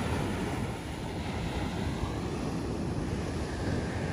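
Ocean surf with glassy waves rolling in, heard as a steady, loud wash of broadband roar with no distinct individual crashes, mixed with some wind noise.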